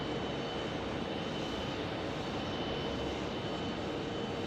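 A diverted airliner taxiing at Phoenix Sky Harbor Airport produces a constant, broad engine rush with a faint whine, steady in level and neither approaching nor fading.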